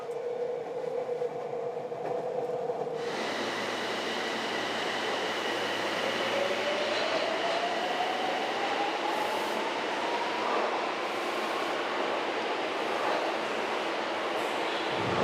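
A packed commuter train runs on a Tokyo-area line, its steady rumble and rail noise loud and continuous throughout, with a rising wheel whine partway through and no talk.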